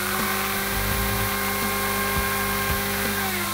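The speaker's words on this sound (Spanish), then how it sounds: "vamos a agregar también el taladro" A steady electric drill motor whine, powered through a 12V inverter, runs continuously with a faint mechanical hum underneath, fairly loud and close.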